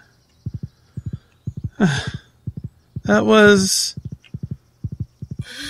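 Horse hooves clip-clop in steady paired beats during a Stardew Valley cutscene, broken by a loud, drawn-out horse whinny. A person speaks briefly in between.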